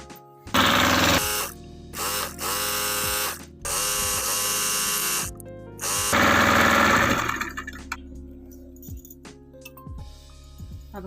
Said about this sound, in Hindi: अब हम आसन की सिलाई लगा लेते हैं